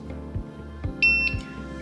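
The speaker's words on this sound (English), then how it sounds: "wait to hear the beep" A Moore & Wright M198 height gauge, its stylus resting on a workpiece over a granite base, gives a single short electronic beep lasting about a quarter second, standing clear above soft handling noise in a quiet room.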